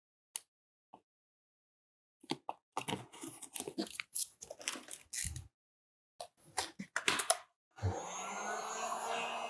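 Vinyl wrap film, TeckWrap SMT02 Burnt Maroon, being trimmed on a car's front bumper: scattered close scraping, tearing and crinkling bursts separated by short pauses, ending in a steady hiss.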